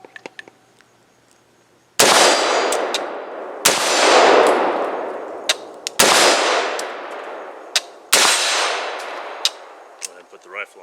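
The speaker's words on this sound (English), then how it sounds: "so I'll fire a couple more rounds." A semi-automatic rifle fires four loud, separate rounds outdoors, each a sharp crack with a long echoing tail, spaced about two seconds apart with faint clicks between.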